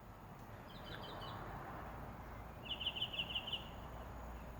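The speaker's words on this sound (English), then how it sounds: "the birds are back. That includes the mockingbirds." Faint outdoor morning ambience with two short bursts of high, rapid chirping from mockingbirds and other birds, the second brighter and more rhythmic, over low background hum.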